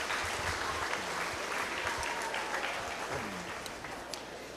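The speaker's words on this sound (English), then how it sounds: "Give these exhibitors a round of applause as they exit the ring" Audience at a beef cattle showmanship contest clapping as exhibitors leave the show ring, dense sustained applause from a crowd in an arena that fades slightly toward the end.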